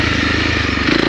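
A prepared Honda CRF300L 2022 motorcycle races through sandy ruts at speed, its single-cylinder engine buzzing hard and close with a rapid, rough pulse and crackling exhaust.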